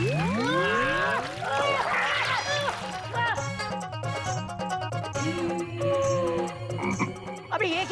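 A frog croaks beside water in a comedy series set in a zoo: a rapid run of loud, rhythmic croaks follows brief voices, with a splash-like rustle near the end.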